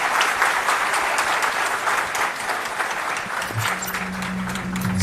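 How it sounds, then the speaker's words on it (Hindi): Loud crowd applause at a Chhattisgarh government beneficiary event, dense continuous clapping filling the whole stretch with a faint low hum entering near the end. "पुनः जोरदार तालियां।"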